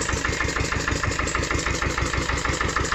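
A WSK-style ES 320 engine, partly dismantled and running on gear oil, idles steadily on its first start after winter, with a loud, even mechanical chug and close, continuous throb.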